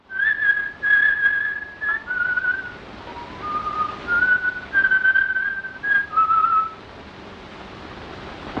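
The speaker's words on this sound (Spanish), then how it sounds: "entona su canción silbando, mientras abandona el escenario del crimen" Someone whistles a slow melodic tune in clear, sustained phrases with short pauses, loud and close, over a faint background hiss, in an animated film scene.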